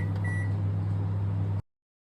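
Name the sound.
microwave oven running and beeping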